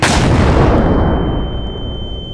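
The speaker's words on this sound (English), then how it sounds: "Set off a landmine." A landmine goes off in a zombie survival video game with a loud, close blast whose rumble decays over two seconds, leaving a thin high ringing tone.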